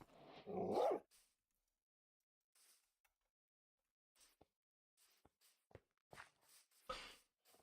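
A dog in the Minecraft video game gives a short yelp or bark near the start, then a scatter of faint, brief clicks and soft steps follow across a mostly quiet stretch.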